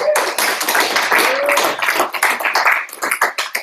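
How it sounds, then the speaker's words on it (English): Audience applause at a student union meeting, brisk clapping from a crowd mixed with voices and cheering, fairly loud and close throughout. "Give a round of applause."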